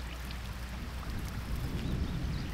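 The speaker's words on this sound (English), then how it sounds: "I'm just going to begin pouring water down that pipe." Water poured from a small scoop out of a bucket down a pipe for a half-inch ram pump install, a continuous close splashing and trickling rush.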